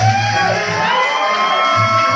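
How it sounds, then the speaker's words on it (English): Recorded audience applause and cheering from a music performance, a steady wash of crowd noise with whoops and shouts, heard continuously and fairly loud. "Yeah, applause. They deserve it."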